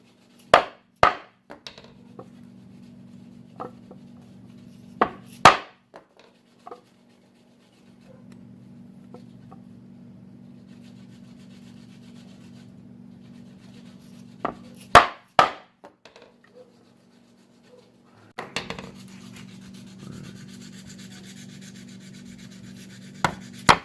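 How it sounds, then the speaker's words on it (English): A leather tool punch driven through leather while making a knife sheath, a handful of sharp isolated strikes at irregular intervals over a quiet low hum. "we're going to use this leather tool punch"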